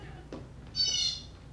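A pet bird gives a single bright, whistling call lasting about half a second after a faint click, heard close against a quiet indoor background.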